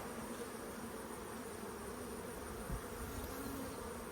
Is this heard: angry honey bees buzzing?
yes